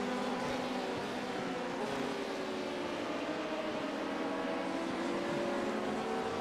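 An LMP prototype race car in the iRacing game passes during a 24-hour race at Circuit de Barcelona-Catalunya, its engine a faint, continuous high whine with sliding pitch under steady broadband noise.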